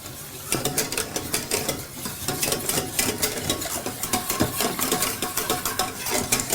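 A spoon stirring béchamel sauce in a pot, a steady rhythmic scraping and swishing that continues close up and fairly loud for the whole stretch, with no talking.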